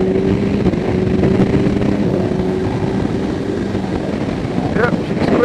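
Kawasaki Ninja 1000SX motorcycle accelerating hard in fourth gear, a steady loud engine drone with wind roar throughout, a rising tone near the end.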